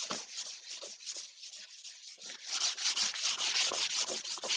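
Oil being rubbed by hand into the bare wood of a cricket bat, a steady dry rubbing and brushing sound in long strokes, softer at first and then louder and denser, close by with no talk.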